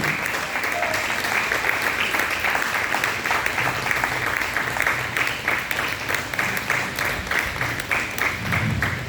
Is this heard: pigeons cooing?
no